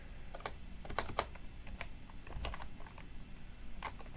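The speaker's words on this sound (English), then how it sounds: "And now we're going to type gnzip" Computer keyboard keys tapped in short irregular bursts while a command is entered in a FreeBSD terminal, close and fairly quiet, with no talk.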